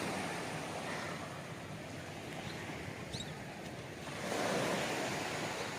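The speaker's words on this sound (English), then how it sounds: "the sea is calm right now" Calm sea waves wash steadily at a coastal fort in Diu, a continuous soft surf with light wind noise, swelling a little louder near the end and heard alone without talk.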